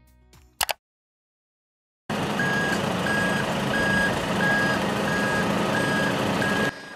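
An ERDF eco-coating truck reverses at a trench worksite, its loud engine rumbling steadily while the reversing alarm beeps in a regular repeating rhythm for several seconds before cutting off.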